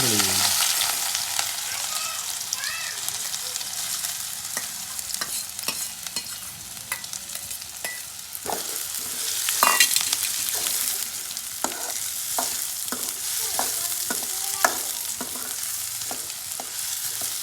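Onion and cumin frying in hot oil in a home kitchen pan, a steady sizzle running throughout with repeated scraping and stirring clicks from a spoon, fairly close and alone with no talk.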